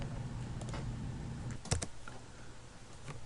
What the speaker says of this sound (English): And then typing in your password for the site.